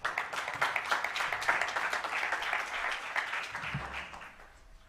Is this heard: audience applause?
yes